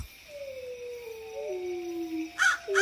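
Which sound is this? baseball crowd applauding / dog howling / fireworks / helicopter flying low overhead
dog howling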